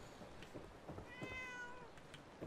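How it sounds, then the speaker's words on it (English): A cat meows in the video game Fallout 4 Far Harbor, a short faint call with a rising tonal cry over quiet game ambience. "Hello there, second kitty."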